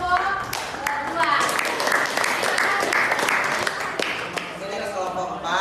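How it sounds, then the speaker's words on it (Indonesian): Classroom clapping for a student group's presentation, a scattered but steady round of hand claps lasting several seconds with voices chattering underneath. "Berikan tepuk tangan untuk kelompok 2"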